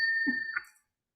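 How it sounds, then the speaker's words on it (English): A debate timer bell gives one clear ding at a Seattle City Council District 7 debate, a sustained ringing tone with a soft thud under it that fades out within a second. "That's the bell."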